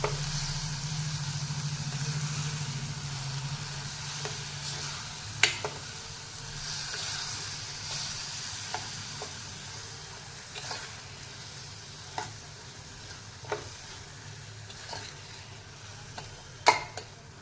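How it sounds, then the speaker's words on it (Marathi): Chopped dill greens sauté in a pan for a Maharashtrian dill vegetable dish, a quiet, continuous sizzle broken by occasional sharp clicks and scrapes of a spoon stirring, with no voices. "आता आपण शेपू घालणार आहोत दोन मिनिट आपल्याला हा शेपू परतून घ्यायचा आहे"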